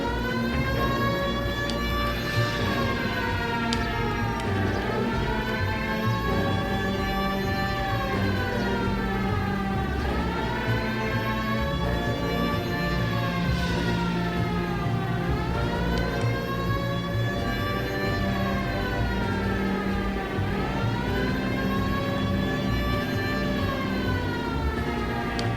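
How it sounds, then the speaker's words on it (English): A police car siren from the video game L.A. Noire wails in long rising and falling sweeps, loud and continuous over a low engine rumble, with no talking. "Hit the siren."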